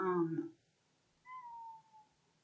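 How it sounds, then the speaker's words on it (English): A pet cat gives a single thin, drawn-out meow, faint and slightly distant, after a brief moment of someone talking. "that was my kitty"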